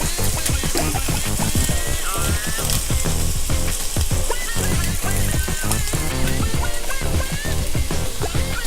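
Drumstick, beans and ivy gourd fry loudly in a pan, a dense crackling sizzle with rapid clattering stirs and bubbling throughout, close and continuous.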